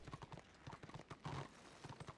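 Horse hooves clip-clop in quick, even doubled beats in Warhammer Online, a steady trot that sounds fairly close and runs alone with a faint background hum.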